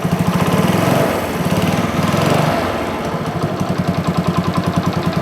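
A vintage black 50 motorcycle engine catches after a pull with the choke partly on, then settles into a rapid, loud, close-up putter with a slight rise and dip in revs before running steadily.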